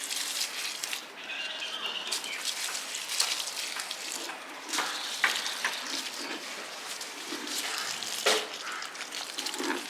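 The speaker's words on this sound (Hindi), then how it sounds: "अब इसे सारे पौधे में दे दूँगी पानी।" Water splashes and trickles into potted garden plants, including a juhi plant, a steady hissing pour with brief bursts of sharper splashing, fairly close, without talk.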